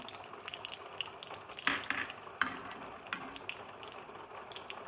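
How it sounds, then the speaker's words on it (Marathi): Ghee heating in a very hot kadhai over a lowered gas flame while making rice laddoos, a faint, steady sizzle with scattered soft pops and crackles, close but quiet. "आता या कढईमध्ये तूप घालूया"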